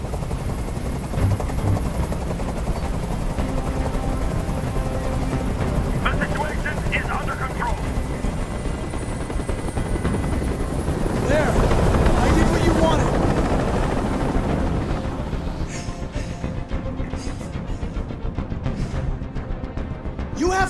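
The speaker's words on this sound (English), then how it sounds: "Tell that helicopter to get out of here!" A helicopter hovering over a rooftop hostage standoff in the game Detroit: Become Human, a steady whirring rotor drone that swells louder midway and fades, with voices speaking over it.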